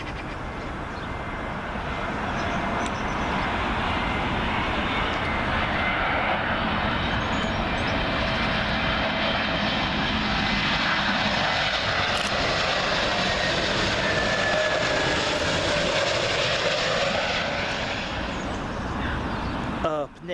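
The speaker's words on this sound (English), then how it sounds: "next arrival in from JFK, JetBlue A321neo" A JetBlue Airbus A321neo arriving at Heathrow from JFK roars steadily overhead, a broad loud engine rumble that swells and holds for a long stretch, with a voice talking over it at times.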